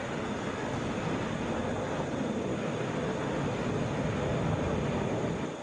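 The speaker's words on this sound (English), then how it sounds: "Delta 2127 touching down from Greenville, Spartanburg in a Boeing 737" A Delta Boeing 737 inbound from Greenville-Spartanburg touches down at Atlanta airport, giving a steady, loud, broadband roar that holds evenly throughout with no talking.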